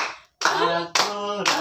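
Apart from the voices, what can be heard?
hand clapping while singing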